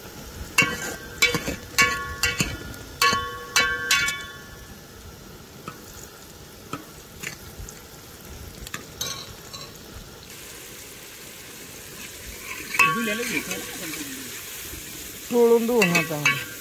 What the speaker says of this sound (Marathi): कांदा चांगला लाल होईपर्यंत भाजून घ्यायचा